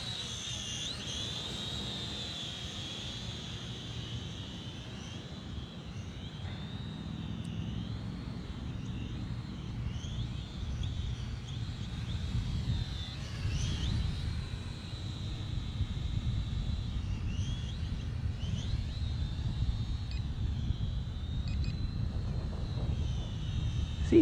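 A light aircraft that has not flown in years runs its engine in flight, a steady drone with a whining tone that wavers in pitch and grows slightly louder toward the end, with no talk.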